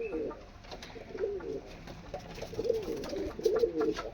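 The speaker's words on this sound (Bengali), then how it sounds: "এই যে এই পায়রা দুটো" Pet pigeons coo nearby in several throaty, rising-and-falling calls that repeat through the moment, with some faint background noise and no clear talk.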